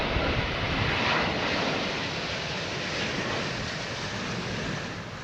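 Loud, close roar of an airplane on a possible test flight in blustery conditions, steady broadband engine and wind noise throughout.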